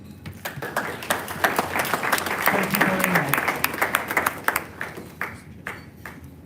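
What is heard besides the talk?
round of applause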